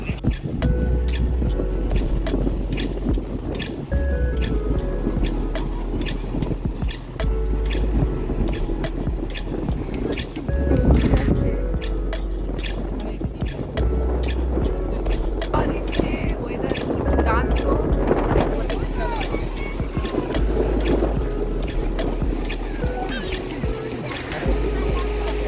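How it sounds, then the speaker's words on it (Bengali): Sea waves roll in at Puri beach near the lighthouse, a steady low roar of surf with a deep throbbing rumble running through it, loud and continuous, with people talking in the background. "কি আওয়াজ সমুদ্রের"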